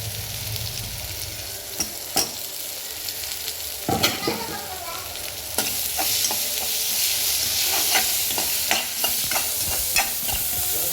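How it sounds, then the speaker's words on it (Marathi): Spring onion greens are stirred into pithla cooking in a pan, a bubbling sizzle broken by repeated scraping clicks of a spoon, growing louder and busier midway, no one speaking. "कांद्याची पात घेतलेली आहे ना, ती याच्यामध्ये सगळी घालून घेऊया।"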